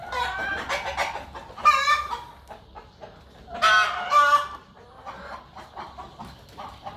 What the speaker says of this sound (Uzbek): Mana xo'rozlari.